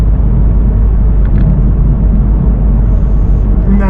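A 2026 Toyota GR86 engine rumbles steadily and loudly through an aftermarket exhaust, a constant low exhaust drone with a faint whir on top.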